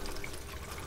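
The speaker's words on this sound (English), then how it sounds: "There's a pump down underneath there that pumps water up through the system" A pump pushes water up through a 3D-printed strawberry tower, giving a continuous, even trickling and splashing wash with no other sounds over it.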